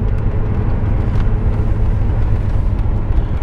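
A 1985 Mercury McLaren ASC convertible on a cold day, rolling at about 35 to 40 mph near 1700 RPM, heard as a loud, steady low road and engine rumble from inside the car.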